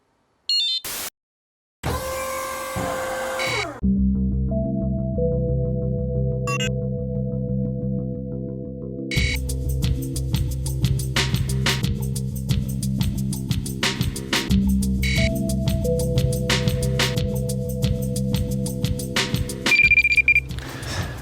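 A Nash Siren RS1 carp fishing bite alarm sounds rapid electronic beeping tones after a brief pause, then a steady buzzing alarm with shifting pitch continues loudly to the end.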